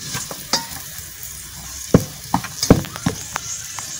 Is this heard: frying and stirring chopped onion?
yes